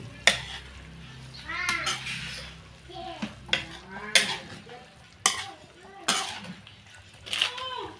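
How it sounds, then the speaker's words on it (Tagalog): A spoon scraping and clanking against a pan while stirring pork adobo, sharp metallic knocks repeating every second or so over a soft sizzle, close and loud. "Haluin ulit natin."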